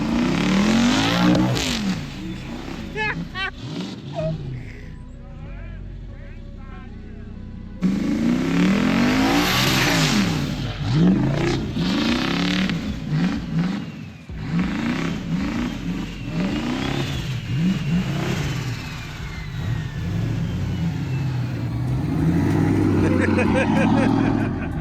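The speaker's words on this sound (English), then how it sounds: "that thing sounds really, really good with full exhaust on it" A car on full exhaust at a Roadkill Nights 2022 event, revving and accelerating hard in repeated rising engine sweeps with some tire noise, loud and close, while people talk throughout.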